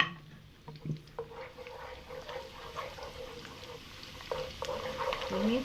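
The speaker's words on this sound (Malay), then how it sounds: "sementara tu Umi rasa minyak dah panas, so kita tumiskan bawang tadi" Chopped shallots frying in hot cooking oil in a home kitchen, a soft continuous sizzle with stirring scrapes and a few clinks, moderately close and fairly quiet.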